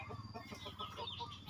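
Backyard chickens kept in a coop right beside the house cluck and chatter in a busy, continuous stream at close range, with no talk.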